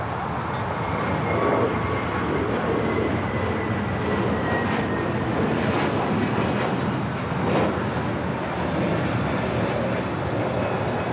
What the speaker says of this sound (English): American Airlines flight 2002, coming in from Vegas